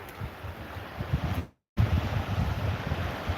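Sea waves wash steadily against the shore, with gusty wind buffeting the microphone. The sound drops out briefly, then resumes just as rough.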